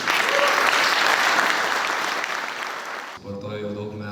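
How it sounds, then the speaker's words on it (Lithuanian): A large audience at a Lithuanian army sports awards ceremony claps loudly and steadily, the dense applause fading slightly before cutting off abruptly as a voice begins speaking over a musical backing. "Fantastika, plojimai!"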